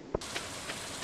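Rain falls in the Stardew Valley video game, a soft, steady hiss that starts abruptly after a brief click and continues evenly, with faint drip-like accents recurring every few tenths of a second.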